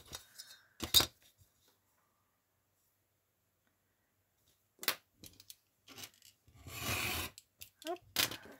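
Scissors snip through material indoors in short separate crisp cuts, with a longer rasping cut near the end and quiet pauses between them, while a voice murmurs briefly.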